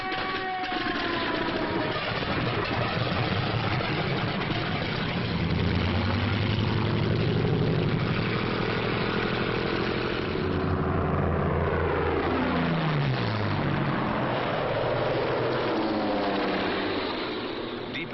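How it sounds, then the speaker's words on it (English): WWII propeller fighter aircraft, P-51 Mustangs flying bomber escort, a heavy droning engine roar with shifting pitch as planes pass, continuous and loud, on an older, narrow-band recording. "A group of escorting Mustangs watches every corner of the sky."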